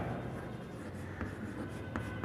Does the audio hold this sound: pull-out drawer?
no